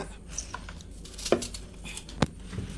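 A small onion being cut into large pieces with a knife for a coconut-based lentil curry: two sharp close chops on a board over a faint kitchen background, no talking.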